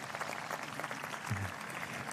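Applause from the audience at the Enumclaw High School 2023 graduation ceremony, a brief burst of moderate clapping from a crowd indoors.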